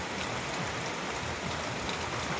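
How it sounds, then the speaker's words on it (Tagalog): Heavy rain pours down steadily on a rainy morning during a week of continuous downpour, a dense, even hiss of water falling close by with no talk. "Ayan, napakaulan po ngayon."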